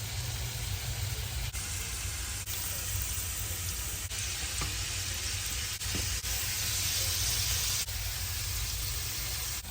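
Butter sizzling in a hot pan with steaks, a steady, dense hiss and crackle filling the whole stretch at close range, with a few faint clicks and knocks breaking through.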